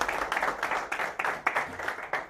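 A small group applauds indoors, quick uneven clapping in several swelling bursts, fairly soft and close, with no talk over it.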